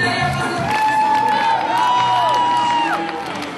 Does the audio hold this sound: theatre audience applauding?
yes